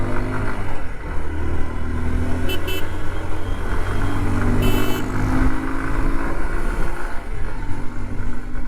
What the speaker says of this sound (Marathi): किती दिवसानंतर अशी गाडी पळवते असं वाटतंय